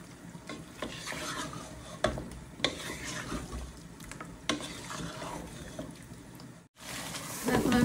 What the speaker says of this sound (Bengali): কষানো হয়ে গেছে, এখন আমি চিকেনগুলো অ্যাড করব।